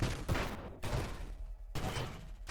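Flak cannon fire in the video game Nova Drift: a quick series of punchy shell bursts with crackling blasts separated by brief lulls, moderately quiet overall.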